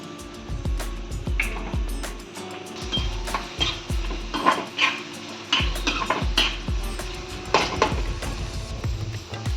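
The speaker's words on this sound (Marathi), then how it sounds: "विजी पिया फोडणा दवरता सोंगाक तेल घालता" Hot oil in a pan crackles as spices for a Konkani vegetable dish are tempered, with repeated sharp clinks and stirring scrapes of a utensil against the pan, close and steady without talk.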